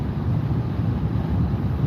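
Steady, loud wind buffeting the microphone outdoors, a continuous low rumble that fills the whole stretch with no pauses and no voices.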